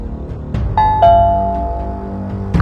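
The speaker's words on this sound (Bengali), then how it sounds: "আরে বাবারে, কলিং বেল কেন দিচ্ছে?" Electronic doorbell at a home's front door, loud and close: a short tone, then two clear ringing ding-dong chimes that decay slowly, with another press starting at the end.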